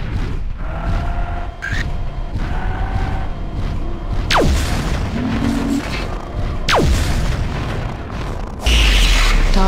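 Explosions of destroyed targets in the MechWarrior 4 Mercenaries mech combat game, heavy booms and bursts over a continuous roar of game noise and engine drone, with sharp descending sweeps and a loud blast near the end.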